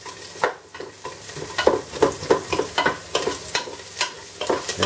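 Onions for lamb kokinisto browning in a pan, with sizzling under a series of quick rhythmic stirring scrapes, close and fairly loud, no talking.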